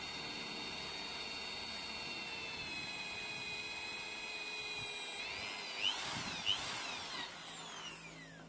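A high-pitched power drill whines steadily, its pitch shifting and catching as the bit bores deeper into a broken, rusted brake master cylinder bolt, with a couple of sharp knocks near the end.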